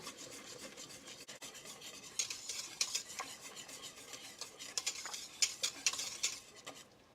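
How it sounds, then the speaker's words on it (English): A spoon scrapes and stirs steadily in a pot of boiling milk and sugar, with gritty rubbing strokes and a faint bubbling sizzle underneath, close by. "Stir this and bring it up to another boil"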